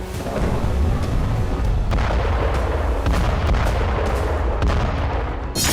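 War explosions in Bakhmut, including landmines set off by tanks: heavy booming blasts and rumbling, dense and loud throughout, with several sharp reports standing out against a continuous roar.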